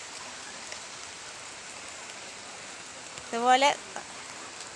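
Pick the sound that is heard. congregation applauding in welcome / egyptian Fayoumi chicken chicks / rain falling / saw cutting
rain falling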